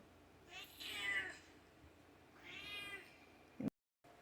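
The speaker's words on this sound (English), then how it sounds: "that was my cat wanting outside on demand" A pet cat meows twice to be let outside, two drawn-out, fairly faint calls in a quiet indoor room, followed by a brief soft bump before the sound cuts out.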